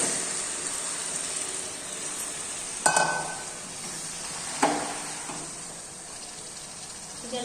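Chicken leg pieces dropped into sautéed spice and ginger-garlic paste for chicken kosha, a steady close sizzle with two sharp louder spikes of frying and stirring, no talk.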